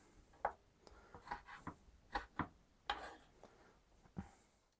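Several sharp, uneven knife strokes cut through frozen pork fat on a board, quiet and close, with short pauses between the cuts.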